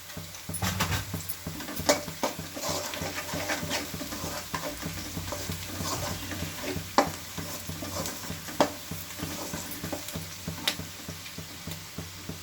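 Turmeric sizzles in hot oil for chicken curry, a continuous crackle broken by sharp spoon taps and stirring scrapes against the pan, close and fairly loud.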